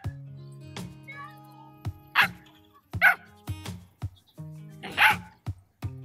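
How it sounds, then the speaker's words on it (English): A small dog barks at close range on a Black Sea vacation, giving a series of sharp, separate barks with short gaps between them, fairly loud against an otherwise quiet background. "Oh my god, it's barking at me!"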